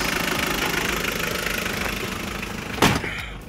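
A 2001 Porter truck's engine idles steadily close by, a loud even diesel rumble with a knocking pulse, broken near the end by a brief sharp clunk.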